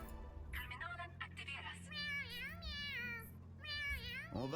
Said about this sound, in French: Tu veux écouter le bruit du chat quand il provoque?